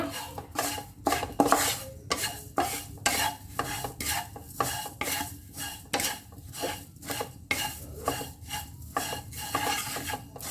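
Black sesame seeds toast in a pan while a spoon stirs them in quick, rhythmic strokes, making loud close scraping and rattling over a faint sizzle, with no voices.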